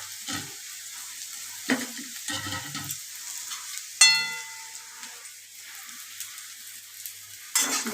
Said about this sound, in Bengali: তেলটা গরম হয়ে গেছে, এবার আমি আলুগুলো দিচ্ছি।